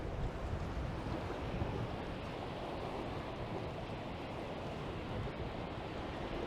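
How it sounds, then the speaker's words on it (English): Choppy lake water on the Toronto waterfront, a continuous wash of small waves lapping and splashing, mixed with steady wind rumble, moderately quiet and unbroken, with no voices. "And the water's pretty choppy."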